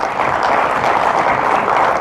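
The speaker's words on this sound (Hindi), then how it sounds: "आप एक बार कृपया करके जोरदार तालियां बजाएं" A crowd at a gathering claps loudly, a dense continuous burst of applause sustained evenly across two seconds.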